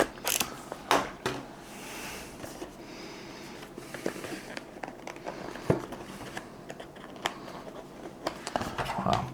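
Product packaging for a JLab wireless lavalier microphone is cut open on both sides, giving faint scissor snips, crinkles and small plastic creaks scattered irregularly over quiet room tone.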